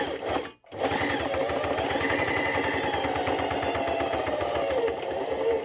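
Sewing machine stitching thick leather, a loud, fast and steady mechanical chatter that runs almost without a break, with one short pause near the start.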